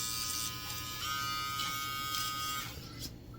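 Brightup rechargeable hair clipper running close up, a steady high electric buzz with a slight shift in pitch near the end.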